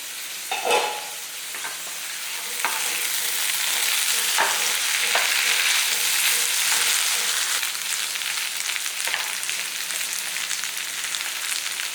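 Potatoes fry in a pan and are stirred now and then: a steady, loud sizzle fills the whole stretch, with occasional scraping strokes and no talking.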